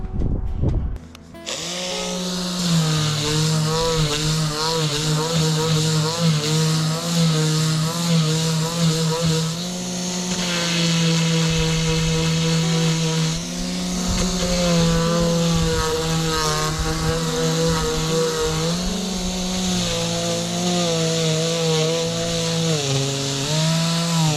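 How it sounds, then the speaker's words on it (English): A power sander drones continuously with a steady motor hum and rough grinding against teak on a sailboat, loud and close throughout. "we're going to give the sander a go"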